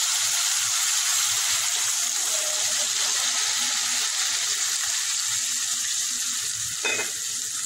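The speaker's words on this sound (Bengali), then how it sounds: "এবারে এর মধ্যে দেবো জল।" Water poured into a pan of well-fried spice paste for a giant taro and barramundi fish curry, giving a continuous hissing sizzle with a brief splashing surge near the end.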